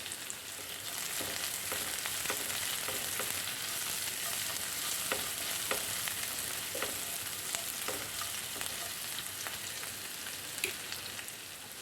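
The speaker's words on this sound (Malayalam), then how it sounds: "സവാള ചെറുതായിട്ടൊന്ന് വാടി വരട്ടെ" Onions sizzle and crackle steadily in a hot pan for a Kerala okra stir-fry, a continuous close frying hiss with small pops and occasional stirring scrapes, no voices.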